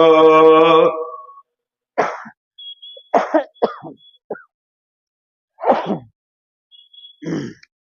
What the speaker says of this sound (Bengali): কাশি হচ্ছে মাঝে মাঝে এটা অসুখ হয়েছে আমার